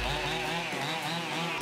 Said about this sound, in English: Then I just use my chainsaw to clean up the top of the log to make it somewhat flat